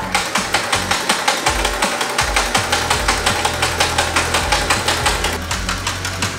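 An old abandoned airplane's engine is cranked over with the plugs out, giving a steady, loud, rhythmic chugging of regular pulses that repeats evenly throughout.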